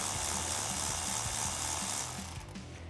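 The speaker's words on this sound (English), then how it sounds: "I'm going to take my 7mm with my electric ratchet and remove this hose clamp right here" A 7mm socket on an electric ratchet loosens a hose clamp on a Bronco air intake, giving a loud continuous whirring buzz with rhythmic clicking, close up, easing off near the end.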